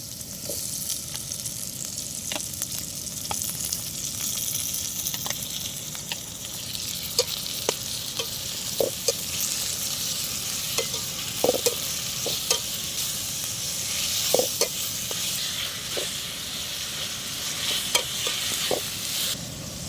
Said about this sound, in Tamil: வெங்காயம் நல்லா பொன்னிறமாக வதங்கி வரணும்.